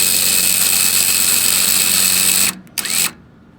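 Sailboat winch spooling in line, a loud close whirring and ratcheting drone that holds steady for a few seconds, then cuts off abruptly with a short final burst.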